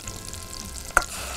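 Canned tomato sauce sautéing with garlic in a pan makes a soft, brief sizzle, with one sharp clink from a utensil partway through.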